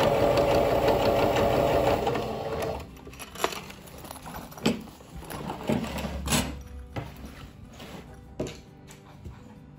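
A sewing machine stitches a topstitch seam on a cleat bag, running as a steady whir before giving way to a few slower, uneven stitches and quiet handling clicks.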